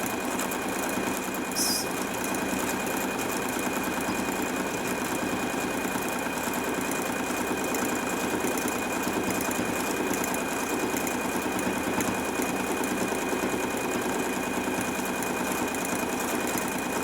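A sewing machine runs steadily and evenly for the whole stretch, stitching fabric at a constant pace in a bleachwork workshop, with a rapid mechanical whir and no talk.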